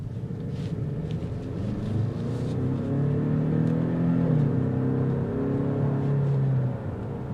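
A 2023 Kia Stinger GT-Line engine pulling through a road-test acceleration, its steady droning tone rising in pitch and easing off again, heard from inside the car with no one talking.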